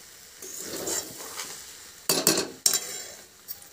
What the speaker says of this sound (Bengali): এটাকে একটু নেড়ে চড়ে নেব